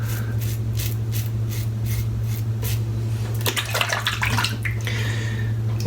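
Cold water running and splashing while soap is rinsed off by hand, a steady rushing stream over a low hum, with brief bursts of heavier splashing toward the end.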